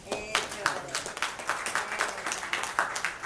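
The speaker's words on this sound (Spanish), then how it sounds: "mostrarle el amor a nuestra hermana Alma Luz dándole un aplauso" A church congregation claps for one of its members during a Sunday service, a fairly quiet, rhythmic run of hand claps over a roomy background with some talking.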